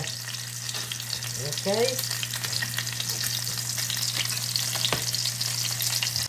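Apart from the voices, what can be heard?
salmon frying in oil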